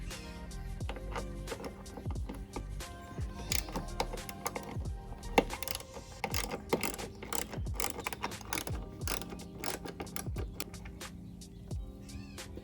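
A ratchet wrench backs out two 10mm bolts holding the outer tail light on a BMW F32 440i, making a dense, rapid stream of close mechanical clicks that runs steadily throughout with no voices.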